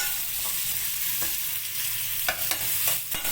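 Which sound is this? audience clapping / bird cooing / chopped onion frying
chopped onion frying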